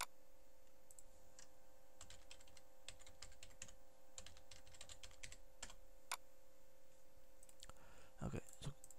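Computer keyboard keys typed in short irregular bursts while a password is entered on a Windows PC, fairly faint clicks over a steady background hum.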